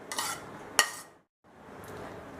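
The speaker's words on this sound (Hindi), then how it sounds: "सत्तू में प्याज और मसाले मिक्स कर लेते हैं।" A spoon clinks and scrapes against a bowl while sattu is mixed with onion and spices, a few scraping strokes and one sharp tap, a short pause, then quieter stirring.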